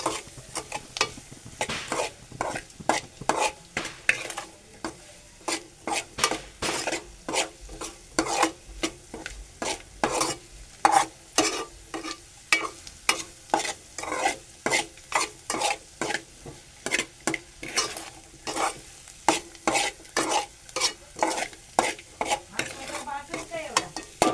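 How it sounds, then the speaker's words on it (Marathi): Green chillies are stir-fried in a pan with a soft, continuous sizzle, while a spatula scrapes and stirs in a steady, repeated rhythm close by. "आपली मिरची आता शिजलेली आहे ही पहा तरी पण आपण थोडीशी परतू तिला"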